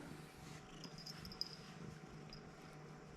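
A cat purrs softly and steadily up close, a low continuous rumble with a faint high tone drifting over it.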